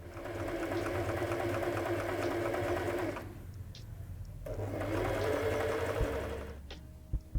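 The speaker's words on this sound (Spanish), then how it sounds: "coser ese resto solo las telas, sin el cierre" A sewing machine runs steadily as it stitches fabric for a zipper pencil case, in two sustained loud bursts separated by a short pause, ending with a few small clicks.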